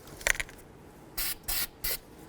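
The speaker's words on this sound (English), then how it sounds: "Let's just spray this splined area with some copper never sees." Three short hissing bursts of copper anti-seize aerosol spray onto a CV axle's splined area, preceded by a couple of faint clicks and rattles, close to the microphone in a quiet space.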